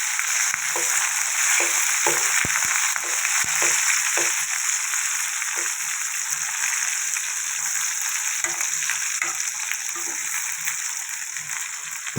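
Spices frying for the tempering of spinach dal crackle in a steady sizzle throughout, with occasional clinks of a utensil stirring in the pan, fairly close and unbroken by talk.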